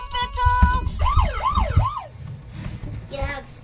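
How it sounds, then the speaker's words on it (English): A small electronic toy ambulance siren wails in quick up-and-down sweeps, close and tinny, followed by a brief beeping tone. "I'm a useful ambulance on the way to the hospital."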